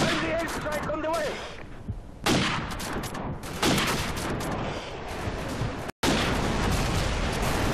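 Gunshots in Call of Duty Modern Warfare, several sharp loud cracks spread across the clip over steady battle noise, with someone talking at the start.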